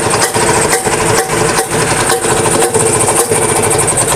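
A homemade 200cc classic motorcycle engine idles at very low RPM close up, a loud and steady mechanical chugging with regular, evenly spaced firing pulses and no voices over it.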